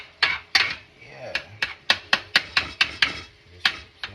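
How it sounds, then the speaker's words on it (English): Turkey pieces being chopped up in a pan of stuffed bell pepper filling: about a dozen sharp utensil knocks against the pan in an uneven rhythm, close and fairly loud, with no talking. "just still chopping it up because I got some big brown turkey pieces in it"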